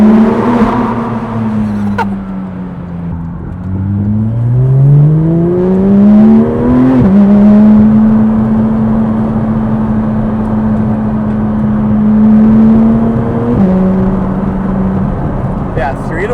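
A car fitted with a new aftermarket exhaust revs and pulls away, its engine tone rising and falling through several long, loud, close drones. People speak around it.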